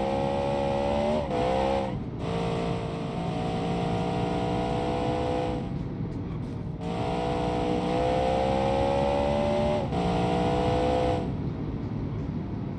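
A powerful car in BeamNG.Drive revs hard with its wheels spinning, a loud continuous engine roar that rises and falls with a few gear-change dips, alone without talk.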